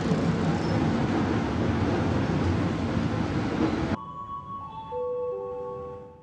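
A KRL commuter train on the Bogor–Jakarta Kota line rumbles along with a steady, loud rolling noise for about four seconds, then cuts to a quieter scene with high tonal whines and a fading hum.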